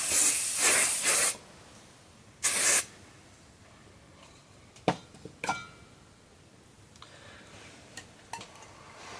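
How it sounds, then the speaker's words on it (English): Extreme-hold hairspray is sprayed from an aerosol can in two loud hissing bursts, followed by quieter handling and rustling sounds. "I have my extreme spray."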